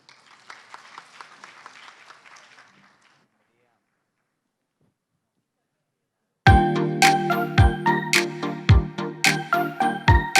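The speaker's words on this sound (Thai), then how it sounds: "ขอเสียงปรบมือด้วยครับ" Audience applause at the Siamrath Online Award 2020 ceremony, a soft patter of clapping for about three seconds, then silence, then loud stage music with sharp beats takes over.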